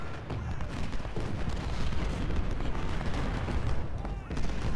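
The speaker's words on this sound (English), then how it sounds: "So my 3 long distance guns are shooting constantly at him." Long-range artillery guns fire continuously in the Civil War strategy game Ultimate General, with booms in a dense, steady barrage under constant battle noise.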